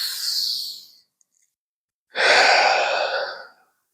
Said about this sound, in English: Taking deep cleansing breaths in